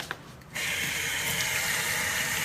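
Water runs steadily from a tap fed by an off-grid water system at a tiny home, a close, continuous splashing gush that starts abruptly after a short quiet moment and carries on without pause.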